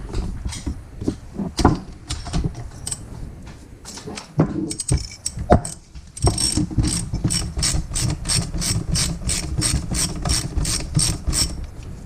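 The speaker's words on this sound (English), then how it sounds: "And then this is going to be a 19mm wrench." A 19mm wrench with an extension, braced in a vise, loosens a bolt on a 2012 KTM 150 SX woods dirt bike: scattered close clicks, then a long, steady run of rapid ratcheting clicks.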